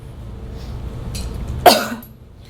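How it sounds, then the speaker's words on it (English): A single sharp, close cough after a swallow taken with the breath held, preceded by quiet throat sounds and soft breathing. "So I've held my breath as I swallowed, and then I coughed to remove anything from my larynx."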